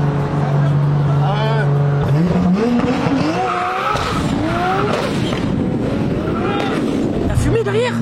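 A 1500 hp Toyota Supra accelerating hard with tires smoking: a loud, close engine wailing upward through quick gear changes, with squealing tires and a sharp burst near the end.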